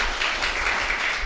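Brief burst of enthusiastic applause for a student at a coaching centre event, a dense wash of clapping that holds steady through the short moment.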